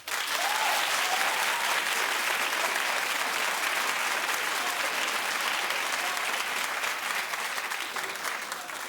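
A television talk-show studio audience claps loudly and continuously, dense and even from start to finish, with no voices standing out.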